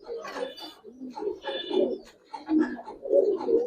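A female Giribaz pigeon coos close up at a pigeon farm, a few soft throaty bursts separated by short pauses, with faint background noise.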